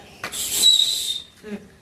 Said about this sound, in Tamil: திருப்பியும் ஒரு விசில் தான் வந்திருக்கு